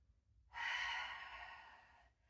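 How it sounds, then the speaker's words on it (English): A single slow, deep exhale during a yoga class, a soft airy breath that swells and fades over about a second and a half in a quiet room. "Deep breath in and out."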